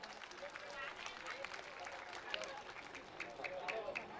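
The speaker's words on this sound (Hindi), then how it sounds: "तो जोरदार ताली बजाएंगे इनके लिए, जोरदार ताली" Steady applause from an audience at a community matchmaking and mass wedding gathering, a dense wash of clapping that holds across the whole moment with faint voices mixed in.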